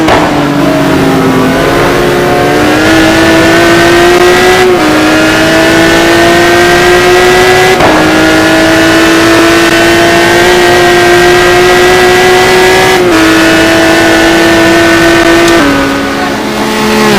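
A Maserati MC12 GT1 race car in a racing video game at Monza sounds loud and close, its engine droning steadily with upshifts that drop the pitch before it climbs again, sustained over about seventeen seconds with no speech.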